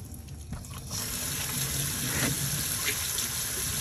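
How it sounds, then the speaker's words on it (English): Running tap water pours steadily into a sink while a tumbler is washed with dish soap, a constant close splash with small clinks, and no voices. "I'm just going to wash it with Dawn soap just to make sure that any of the residue from the Dawn Power Wash is all wiped off."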